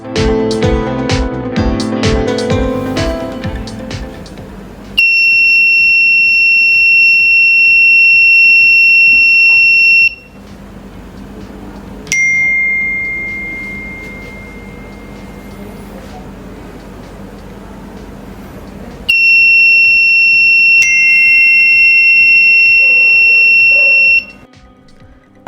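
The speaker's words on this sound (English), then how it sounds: "when the flame sensor detects the fire, it triggers the buzzer" Piercing electronic buzzer from an Arduino Nano ESP32 flame-sensor fire detector sounds in long steady bursts of several seconds with gaps between, loud and close, following a stretch of mixed noise and voice at the start.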